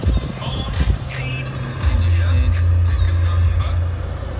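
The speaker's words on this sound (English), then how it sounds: "Car starts first time, no warning lights." An Audi A1 engine idles just after starting, a steady close low rumble that swells slightly and holds evenly throughout.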